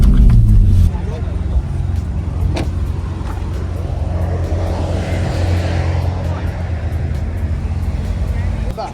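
A BMW X3M idles after a hot lap at the Nürburgring with its brakes smoking, its engine a loud, steady, close rumble that runs the whole time, with no one speaking.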